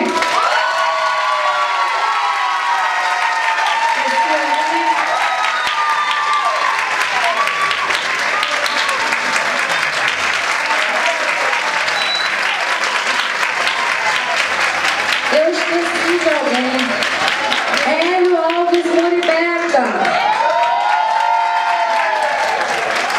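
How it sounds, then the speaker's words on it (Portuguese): An audience applauds and cheers at a dance show, sustained clapping mixed with whoops and shouts, while music with bright tonal lines plays over and through it for the whole stretch. "Pode aplaudir."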